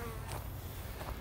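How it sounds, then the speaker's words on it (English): A swarm of irritated bees hums steadily close by, a continuous low buzzing that fills the whole moment with no voices over it. "the bees are a little irritated with me"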